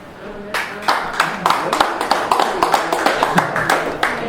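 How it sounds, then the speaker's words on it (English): An audience at an American Legion post show in Jeffersontown, Kentucky, claps in a loose scatter of close hand claps that quickly builds into brisk, uneven applause lasting a few seconds. "Let's hear it by applause if you're a middle child."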